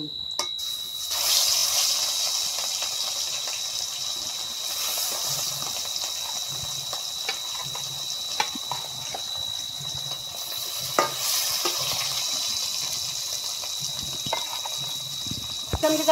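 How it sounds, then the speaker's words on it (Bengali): Fish pieces sizzling in hot oil in a wok for a rohu fish curry, a steady broad hiss with occasional sharp pops and crackles throughout, moderately loud and close, with no talking. "এখন একটা একটা কইরা মাছগুলা কড়াইর মধ্যে দিয়া দেই।"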